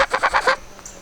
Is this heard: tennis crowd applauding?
no